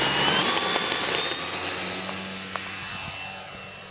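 An FMS Focke-Wulf 190 radio-controlled model airplane in flight, its electric motor whining with a shifting pitch over wind and outdoor noise, fairly distant and steady, no voices.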